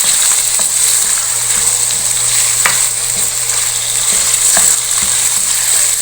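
Pieces of meat fry in about half a cup of hot oil for haleem, a loud continuous sizzle close by with occasional scraping clicks of stirring, no voices.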